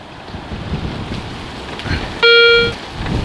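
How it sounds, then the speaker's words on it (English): Outdoor wind buffets a microphone during metal detecting in a Cheshire field, a steady low rumble and hiss, then a short loud electronic tone from the detector cuts in. "Sorry about this wind, lads."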